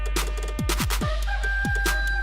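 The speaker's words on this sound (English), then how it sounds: "And a rooster." A rooster crowing sound effect plays close and clear, with its rising and falling calls repeated several times in quick succession.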